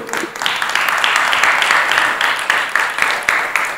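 Congregation applauding during a church sermon: a steady wash of many hands clapping fills the space, fairly loud and continuous with small swells, and no voice comes through over it.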